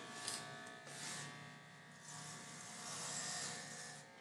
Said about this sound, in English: So I'm going to go to the 3/4 clipper.